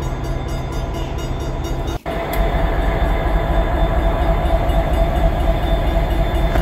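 A diesel locomotive idles at a station during a diesel days railway museum event, a steady low rumble with a constant engine drone, briefly interrupted by a short gap before resuming slightly louder.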